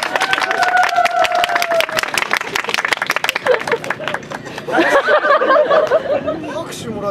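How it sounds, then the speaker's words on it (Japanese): Crowd applause and clapping from a tour audience at a Nagoya Omotenashi Busho-tai samurai performance, steady and fairly close, mixed with chatter and voices talking over it, a sung or called tone early on, and busier crowd murmur toward the end. "拍手もらっちゃったぞ"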